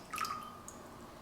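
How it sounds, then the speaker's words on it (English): Soy sauce is poured from a measuring cup into a small mixing bowl of water for teriyaki sauce, a quick close splash and drip that fades within about a second. "1/3 cup of soy sauce,"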